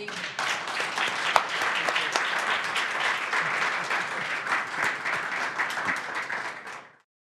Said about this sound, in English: let's give Pete a round of applause.